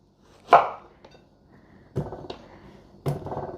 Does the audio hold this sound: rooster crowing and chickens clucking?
no